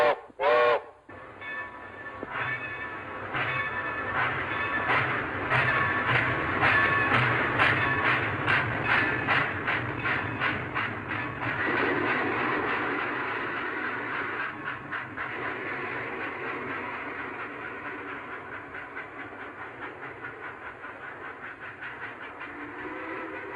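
A train in a 1932 film soundtrack passes close and loud, with rhythmic clickety-clack of wheels on rail joints and a steady rumble that slowly fades as it moves away, no talking.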